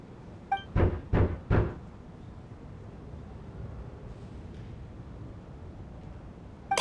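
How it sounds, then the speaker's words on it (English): Three firm knocks land on a door in the video game Genshin Impact, set during a snowstorm, followed by quiet room ambience and faint wind. "Or was that a knock at the door?"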